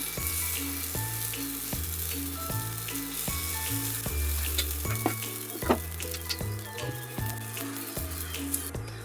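Appe batter sizzles in a hot appe pan, a steady close frying hiss with small pops and crackles that carries on without pause alongside light clinks and taps.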